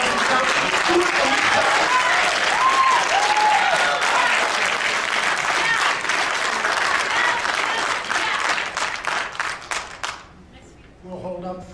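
An audience at a city council meeting breaks into loud, sustained applause, dense clapping that fills the room for about ten seconds before thinning out, with voices talking as it fades.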